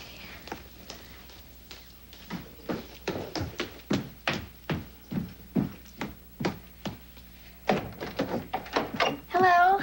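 A run of hollow knocks and thuds from a door being answered for arriving visitors, some two dozen irregular taps at moderate distance, with speech at the end.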